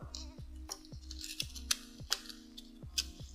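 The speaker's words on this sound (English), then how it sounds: "I can cut that little triangle off." Small scissors make a series of quick, crisp snips while trimming a paper nail form for acrygel nails, close and distinct at an irregular pace, with faint light clicks between cuts and no voices.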